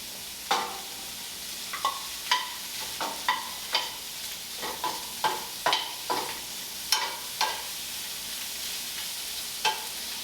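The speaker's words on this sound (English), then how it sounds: "We're going to go ahead and saute it a little bit in a frying pan." Sausage sizzles steadily in a hot frying pan in its own fat, with repeated scraping clicks of a utensil stirring at an irregular rhythm.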